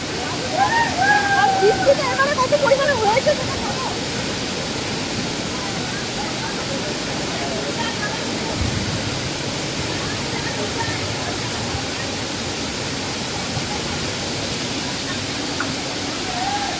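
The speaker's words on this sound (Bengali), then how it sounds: "দুটো ফুটো ফোকর থেকে ফোকর ফোকর কি বলে ওগুলোকে পাঁচ ফোকর থেকে জল বেরোচ্ছে" Water gushes from several holes in the rock at a secluded waterfall in Goa, a steady, loud, hissing rush that never lets up. Someone speaks briefly near the start over it.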